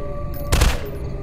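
A single short burst of rapid gunfire in a zombie shooting video game erupts over a constant low background rumble, loud and close, then fades quickly.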